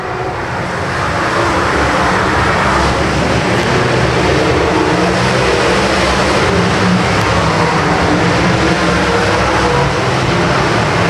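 Dirt track race cars roar around the oval in a dense, loud, continuous engine wash with no clear breaks, heard from trackside during a race.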